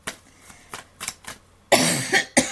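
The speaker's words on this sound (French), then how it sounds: "je tousse encore un petit peu" A woman coughs a few times in quick succession, close and fairly loud, with a harsher, heavier burst of coughing near the end.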